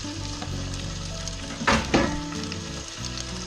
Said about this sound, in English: we're going to brown this up in a Dutch oven, and we're going to get some color to it